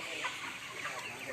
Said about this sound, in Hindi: ये सफ़ेद मुर्गियाँ हैं सारी बॉयलर